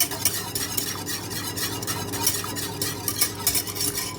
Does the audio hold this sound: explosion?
no